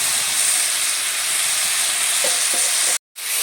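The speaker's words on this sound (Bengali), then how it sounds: "এবারে চুনো মাছগুলো দিয়ে দেবো" Small chuno fish sizzle and fry continuously in a hot pan, a loud, even hiss that cuts out for a moment near the end before resuming.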